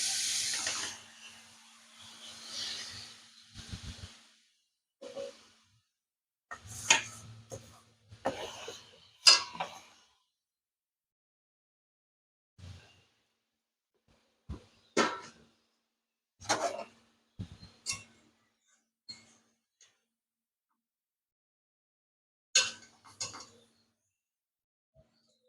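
Sugared raw mango pieces stirred in a kadai over a gas flame, an oil-free sweet-sour mango pickle, with scattered scraping and clinking bursts and a soft hiss early on, separated by quiet gaps.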